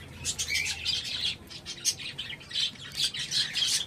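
Busy high-pitched chirps and squeaky calls from many Java sparrows in a colony cage overlap continuously at close range, with a faint low hum underneath.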